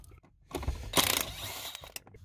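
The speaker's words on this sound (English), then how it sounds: "So we've got to take those off, take the bolts out." A ratchet wrench clicks and whirs while backing bolts out on a Jeep during a compressor install, a close burst of rapid ratcheting with a couple of short mechanical knocks.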